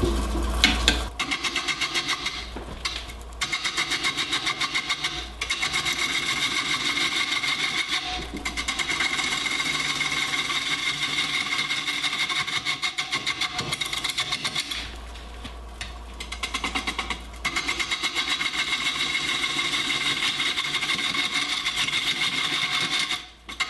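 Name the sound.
wood lathe turning a vase rim with bowl gouge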